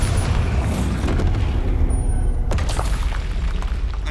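Bombarda blasting spell going off in Hogwarts Legacy, a loud booming explosion with crackling debris that carries through the clip, with a second sharp burst about halfway.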